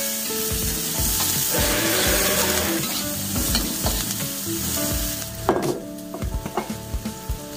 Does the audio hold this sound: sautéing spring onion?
yes